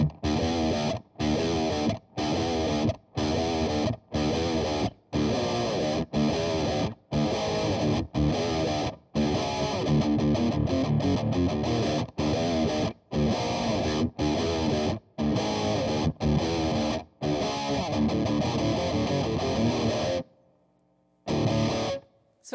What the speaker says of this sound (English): that is definitely a heavier sounding pedal than the overdrives I showed you previously